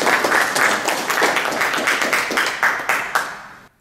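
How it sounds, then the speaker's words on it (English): Audience applause at a JavaScript meetup fills the room, a dense steady patter of many hands clapping at close range, with a few sharper individual claps standing out, then cutting off abruptly near the end. "let's give James a round of applause now, so he can."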